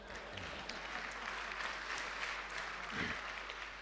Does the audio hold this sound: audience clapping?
yes